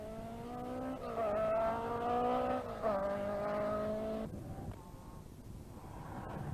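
An Opel Ascona rally car is driven hard on a rally stage, its engine revving loudly through rising gear pulls with a sharp drop as it passes, then fading into quieter background noise.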